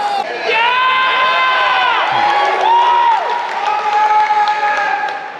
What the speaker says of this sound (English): the cheering continued throughout the event, where the crowd continues to interrupt the speaker mid-sentence